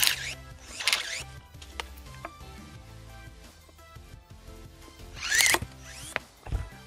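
Cordless battery pruning shears biting into a 29 mm hardwood branch, taking several motor-driven cuts separated by quieter pauses, with sharp snapping bursts near the start and again toward the end.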